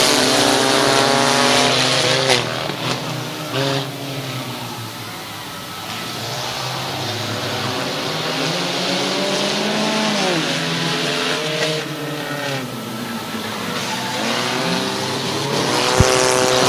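Race cars battling for position at Midvale Speedway, several engines roaring and revving close by, pitch sweeping up and down as cars pass and accelerate, loud throughout with a brief sharp knock near the end.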